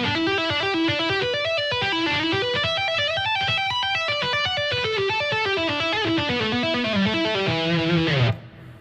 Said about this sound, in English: so that whole first part of the tapping should sound like this